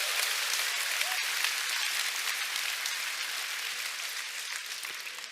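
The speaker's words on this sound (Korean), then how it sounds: "오늘 그 한 사람은 바로 접니다 하시는 분은 본인에게 큰 박수 보내주시기 바랍니다" Large audience at a seminar giving a dense, sustained round of applause, steady and loud throughout, slowly tapering toward the end with no speech over it.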